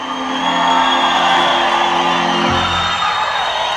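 A horse show crowd in North Carolina whoops, cheers and applauds for the reserve five-gaited champion horse, a loud, steady roar of voices and clapping that fills the whole moment.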